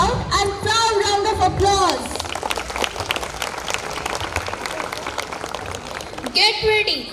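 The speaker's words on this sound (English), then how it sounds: "Let's give them a loud and proud round of applause." Loud audience applause from a school crowd at an Independence Day cultural program, sustained across the middle after musical tones fade, with music returning at the end.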